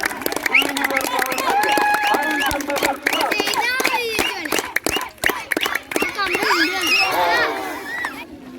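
A crowd at a school sports day breaks into dense, continuous group applause, sharp claps packed together and running steadily the whole time, mixed with loud cheering voices and chatter close by.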